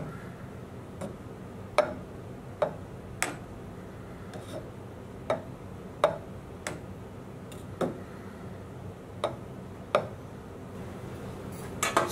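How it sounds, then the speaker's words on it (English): Sharp knife slicing into soft mozzarella curd, heard as a series of small, crisp ticks and taps about every second, spread evenly across the passage over a quiet room background. "get a sharp knife. And we just want to cut into the curd like that"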